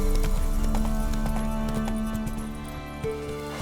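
Roach, the horse in The Witcher 3, gallops in a steady clip-clop of hooves over a sustained musical drone, loud at first and then easing slightly, with a faint chink near the end.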